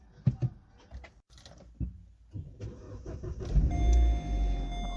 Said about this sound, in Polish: Bez problemu odpala.